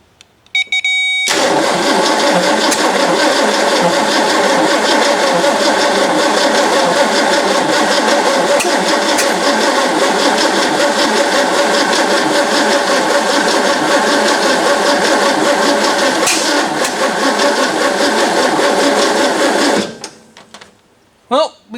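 A rebuilt Ford 390 V8 engine cranks and catches, then runs loud and steady at a rough idle for close to twenty seconds before cutting off, heard close up with a few faint voices around it.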